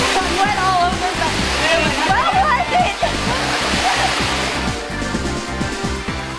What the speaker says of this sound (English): First waterfall I've ever climbed before.